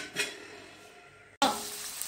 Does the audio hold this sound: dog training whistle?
no